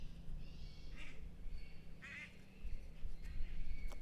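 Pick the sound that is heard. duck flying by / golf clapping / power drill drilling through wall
duck flying by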